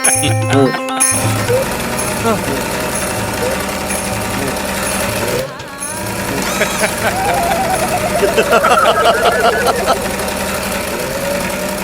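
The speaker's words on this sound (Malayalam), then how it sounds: "അപ്പൊ സുമയ്ക്ക് അറിയാം എന്തുവാ ഒച്ച ഉണ്ടാക്കാതെ തയ്ക്കാൻ." A domestic sewing machine stitching a blouse makes a continuous rapid mechanical rattle, with a brief pause midway, running beneath near-constant talking.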